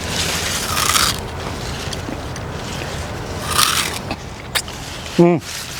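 Soft chewing sugar cane is bitten and chewed at a tropical homestead, giving a few close, crunchy scraping bursts at uneven intervals with quiet pauses between them.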